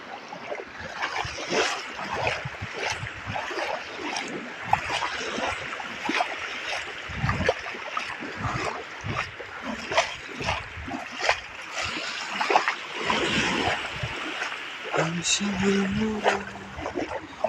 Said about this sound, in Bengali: সব থেকে সাগরের ঢেউগুলো আমার কাছে অসাধারণ লাগে